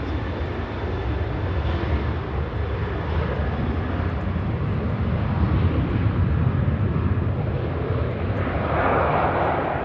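Aircraft departing Manchester Airport for Belfast, heard as a loud, steady broadband engine roar that fills the whole clip. The noise swells slightly toward the end, with no talk over it.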